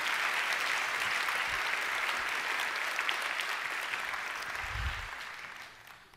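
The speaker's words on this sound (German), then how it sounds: "Ein Applaus für Björn" A live talk-event audience gives Björn a round of applause, a thick, even wash of many clapping hands that carries steadily before tapering away and fading out.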